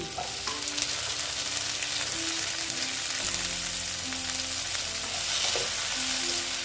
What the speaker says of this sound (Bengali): দিয়ে আমি আবার ভালো মতো ভেজে নেব টমেটোর যেন কাঁচা গন্ধটা না থাকে